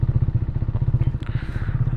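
A KTM RC 390 and a Continental GT 650 motorcycle idle while warming up before a Sunday group ride. The engines give a close, loud, steady low pulsing throb with faint clatter.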